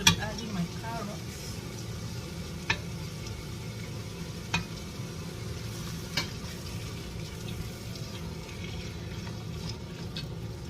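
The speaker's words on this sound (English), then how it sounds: "So I'm going to be adding my carrots." Carrots stir-fried in a pan for fried rice, a steady sizzle with occasional sharp scrapes of a utensil against the pan, and a voice speaking over it.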